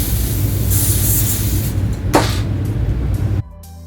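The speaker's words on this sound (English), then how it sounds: "I'm going to hold this down and spray it." Aerosol spray hisses in a couple of bursts, a longer one and then a short sharp one, while a 26-inch water wave glueless wig is held down during install, over a steady room hum that drops away near the end.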